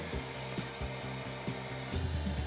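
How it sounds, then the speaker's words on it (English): Shop vacuum sucking up loose old caulk debris around a shower, tub or sink, a steady close roar with rhythmic thumps as the nozzle scrapes along the surface. "I like to use a shop vac because it's easier."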